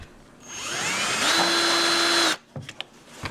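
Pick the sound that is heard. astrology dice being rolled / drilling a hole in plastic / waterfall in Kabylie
drilling a hole in plastic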